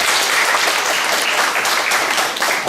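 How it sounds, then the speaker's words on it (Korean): A church congregation at a Christmas service applauds the children's performance, a dense, loud, steady burst of clapping that fills the room. "우리 유치부부터 중고등부까지 박수 한번 쳐주시겠어요?"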